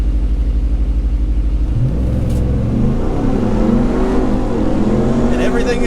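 A 702 hp Ram TRX pickup launches in a drag race against a 1000 hp Hennessey TRX, its engine roaring loud and close with a deep rumble climbing through the revs, while a voice talks over it.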